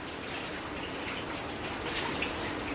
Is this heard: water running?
yes